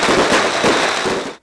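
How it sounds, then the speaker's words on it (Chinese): Beehive firecrackers at the Yanshui Lantern Festival explode in a loud, dense, continuous crackling barrage of rapid bangs, close and unbroken until it cuts off abruptly. "在今仔日嘛放今年的第一座炮声"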